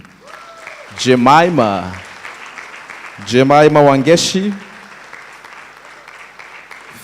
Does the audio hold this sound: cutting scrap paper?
no